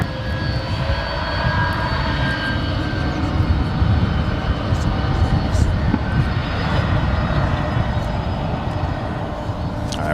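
An American Airlines airliner takes off at DFW airport, its engine roar steady and loud throughout, a broad continuous rumble with a faint whine above, while voices talk quietly underneath.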